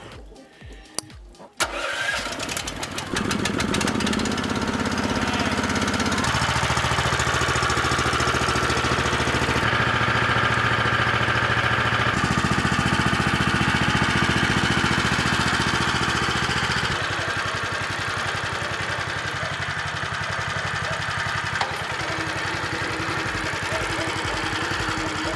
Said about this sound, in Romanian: vom porni motorul cu o prealabilă încălzire a acestuia, după care va urma rodajul propriu-zis